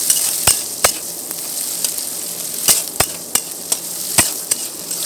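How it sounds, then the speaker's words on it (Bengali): Finely chopped onions sizzle steadily in a pan as they are browned for a Bengali chicken curry, with sharp, irregular clicks and scrapes from a stirring spoon cutting through the frying. "এবার পেঁয়াজটা আমরা ভালো করে লাল লাল করে ভেজে নেব।"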